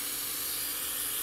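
Carb cleaner sprayed down into the carburetor of a 2005 EZGO TXT gas golf cart, one steady close hiss of aerosol spray lasting about a second with no talk.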